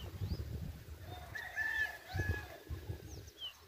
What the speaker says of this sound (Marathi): कोंबड्याचं आरवणं,